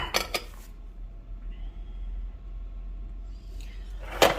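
Dishes and plates clink briefly at the start and again at the end, short sharp handling sounds with a quiet room in between.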